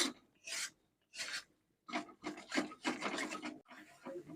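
Spices being stir-fried with a spatula in a pan over low flame for a pointed gourd (potol) dish: repeated close scraping and rasping strokes in short bursts, then a denser stretch of continuous scraping, with no talk.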